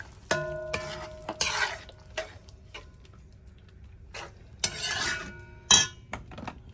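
Shrimp are stirred in seasoning in a pan for Cuban shrimp creole, with intermittent scraping and clinking of a utensil against the pan, close and moderately loud, with no talk.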